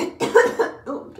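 A woman gives a couple of short, close coughs while spraying a styling product into her hair, two quick throaty bursts followed by a softer trailing breath.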